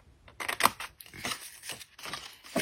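Scissors snip through paper for a Christmas card-craft box in a series of close, crisp cuts with short irregular pauses between them.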